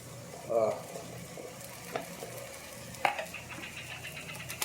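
Garlic drops into a hot pan of sloppy joe mixture with a brief sizzling burst, then a low, steady frying hiss continues with a few faint clinks from stirring.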